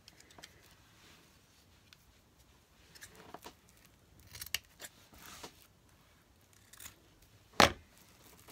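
Scissors snip through material while an ironing press board is being made: scattered close crisp cuts and rustles, ending in one loud sharp snip, with no talking.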